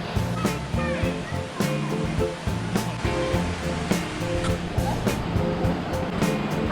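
A creek rushes toward the upper falls at Crystal Cascades near Cairns, Australia, a continuous watery roar running beneath prominent background music for the whole stretch.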